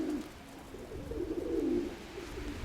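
A female racing pigeon gives a soft, low cooing phrase that swells and fades over a couple of seconds, close by in a quiet loft.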